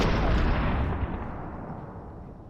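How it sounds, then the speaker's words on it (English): Gunfire in the Fortnite video game, a dense, loud burst of shooting with booming low-end impacts that gradually fades over a couple of seconds. "I start shooting."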